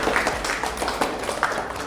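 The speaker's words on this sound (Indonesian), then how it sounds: "Bagus sekali, tepuk tangan untuk Mbak Ega." Brief burst of classroom clapping at the close of a nursing college teaching session, a small group applauding with scattered, uneven claps that sound fairly close and steady for a couple of seconds.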